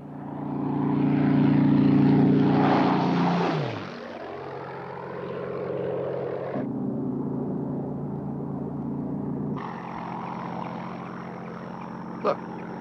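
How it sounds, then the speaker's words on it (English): A German Junkers propeller plane drones overhead in a 1978 war film, loud and near, with the engine pitch dropping as it passes and then fading under a lower steady hum. "Look, there's a German plane, the Junkers. That's probably on a reconnaissance flight."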